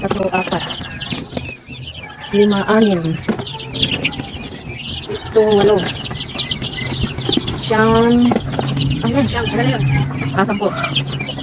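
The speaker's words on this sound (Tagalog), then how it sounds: "Bilangin lang pala natin itong sisiw muna na pugo" Quail chicks peeping in a brooding cage on a quail farm, a continuous busy chorus of small high chirps, fairly close, with a person talking over it throughout.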